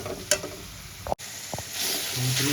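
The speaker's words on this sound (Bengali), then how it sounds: "পেস্টটা দিয়ে আমি ভালো করে কষাবো" Tomato paste sizzles and fries in a pan, a soft hiss with a few stirring clicks and scrapes, then the sizzle swells louder toward the end.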